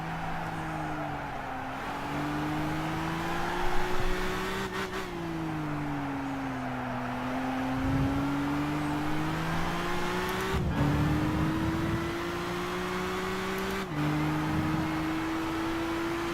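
A race car engine in the Gran Turismo game revs up and down through gear changes, its steady whining note climbing and dropping in pitch and heard alone.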